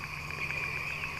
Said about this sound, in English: we have these 13-year locusts or cicadas, and they're different than the big green ones